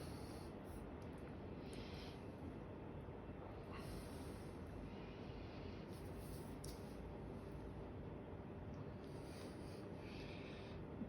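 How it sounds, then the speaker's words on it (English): A scraper spreading a layer of homemade lasagne out to the edge of the pan, giving soft, continuous rubbing and scraping strokes, fairly faint and close, with no talk. "Grab a scraper and just scrape it right to the edge."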